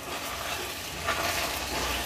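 Fried potatoes are stirred into sautéed spices in a pan, a steady close sizzle with soft shuffling, continuous and even throughout.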